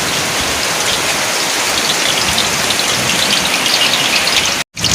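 Heavy rain pours steadily in a continuous dense hiss close by during outdoor cooking, holding loud and even throughout before a brief cutoff near the end.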